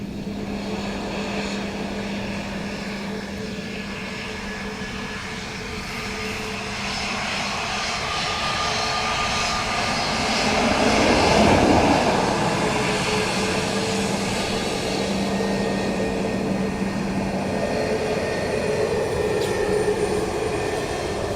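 An Aer Lingus Airbus A320neo lands in gusty crosswind and headwind at Dublin Airport: a steady, loud jet roar blends with wind buffeting, swelling to a peak partway through before easing back to a sustained rumble.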